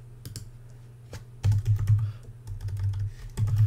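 Typing on a computer keyboard, with a few isolated keystrokes followed by quick bursts of clicking keys, close and fairly quiet, with no talk.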